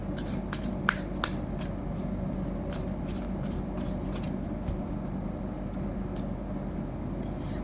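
Tarot cards shuffled and drawn by hand, a soft continuous riffling with several sharp flicks and snaps scattered through, heard alone at moderate level over a steady low hum.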